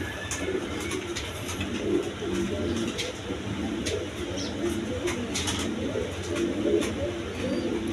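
Pigeons coo steadily at a pigeon farm, a soft continuous murmur of many birds with occasional higher chirps mixed in, and no voices.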